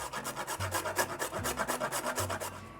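Whole nutmeg is ground for oatmeal raisin cookies, a soft rhythmic scraping and rasping in quick regular strokes, close and fairly quiet.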